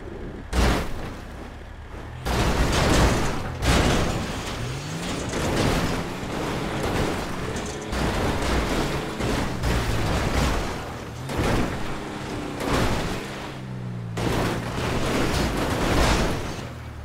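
In GTA 5, a white SUV tumbles and smashes into big stones, giving a run of heavy, loud crunching impacts and booms in repeated bursts.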